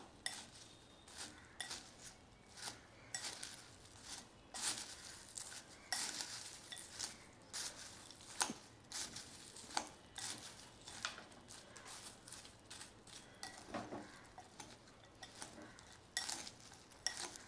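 Papad snack being mixed with squeezed half lemon juice, with repeated scraping, clinking spoon-against-bowl stirring strokes in uneven bursts, close and moderately loud, no talking.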